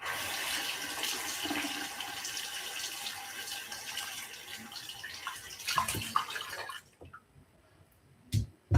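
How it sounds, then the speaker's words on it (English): A tap runs steadily as fingers are washed, water splashing and hissing for several seconds before cutting off, leaving a quiet pause and a final soft knock. "Now wash my fingers."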